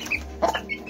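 A mother hen with her Aseel chicks gives a few short, soft clucks close by, with faint peeping in between, all within less than a second.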